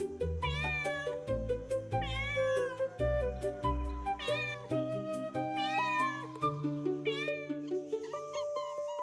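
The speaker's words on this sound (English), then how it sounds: "a cat's purr vibrates at a specific frequency that promotes bone healing and tissue repair." Cat sounds with repeated rising meows, clear and close, set over a steady layered low-pitched bed that persists through the whole stretch.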